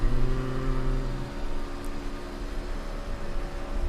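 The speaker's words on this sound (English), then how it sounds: "the drone of the engine just kind of lulls you to sleep sometimes" Steady truck engine drone in the iRacing video game, a loud, even low hum with a constant tone that holds throughout without any noticeable change in pitch.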